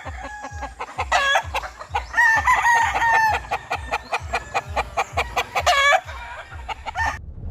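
At a gamefarm, roosters crow repeatedly, with long, loud calls overlapping one another, while chickens cluck and birds flap nearby under a rhythmic low thumping throughout.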